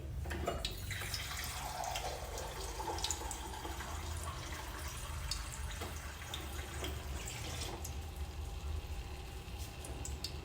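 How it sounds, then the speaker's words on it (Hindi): Water is poured into a pan of jimikand (suran, elephant foot yam) curry to make a gravy, giving a soft continuous splashing and trickling close by for about ten seconds with no talking. "मैं इसमें डालने लगी हूँ पानी, क्योंकि मुझे ग्रेवी यानी कि तरी वाला चाहिए"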